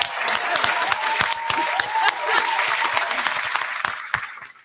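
A small group claps for panel guests, crisp individual hand claps standing out over a fuller round of applause, with a bit of cheering mixed in, fading near the end.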